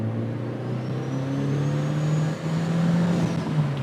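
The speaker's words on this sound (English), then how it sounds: "You can hear the diverter valve too." A turbocharged Mazda Miata NB revs hard with a rising steady engine tone, and a whooshing diverter valve recirculation sound breaks in near the end, close and loud.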